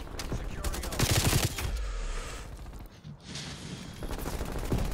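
Rapid Krig 6 rifle gunfire in a first-person shooter video game, dense bursts of shots with a brief lull midway, loud and up close.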